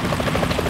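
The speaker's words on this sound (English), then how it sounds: "Is that a chopper I just heard?" A helicopter in the video game Metal Gear Solid 2 hovers nearby, a loud, continuous rotor drone with a fast rhythmic thump and no voices over it.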